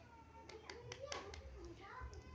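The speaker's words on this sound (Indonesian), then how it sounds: "silahkan tepuk tangan ya anak-anak karena kelompok 1 sudah selesai mempresentasikan hasil" Children clap their hands in a classroom during a science lesson, a few scattered claps standing out over a steady murmur of young voices and background chatter.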